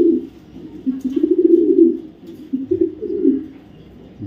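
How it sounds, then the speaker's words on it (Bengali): A male BRPFC 2024 racing pigeon coos close by in repeated low, rolling phrases that swell and dip over a few seconds, with no talking. "নর কবুতর, দেখেন কোয়ালিটিটা"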